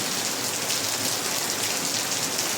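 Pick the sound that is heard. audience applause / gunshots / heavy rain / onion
heavy rain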